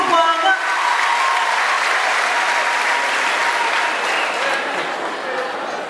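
A church congregation claps together in sustained, loud applause, a dense wash of hands that holds steady throughout with a faint voice or two mixed in.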